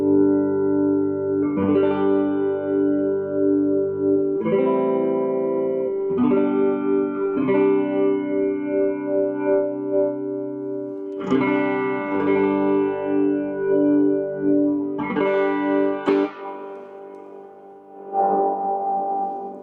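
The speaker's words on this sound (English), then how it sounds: "So, we've got guitar sound." Electric guitar chords ring out in separate strums with pauses between them, each trailing off in a heavy, slightly feedbacky reverb wash.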